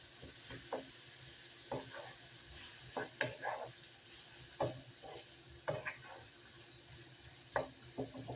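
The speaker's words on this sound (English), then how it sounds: "Just want to pre-cook your meat and veggies a little bit to make them tender." Meat and vegetables sizzle while frying in a pot for homemade chili, with a steady soft hiss broken by repeated scraping stirs of a utensil against the pot, close and moderately quiet, with no talking.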